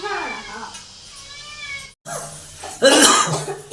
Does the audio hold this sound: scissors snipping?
no